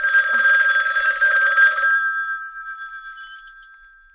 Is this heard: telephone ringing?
yes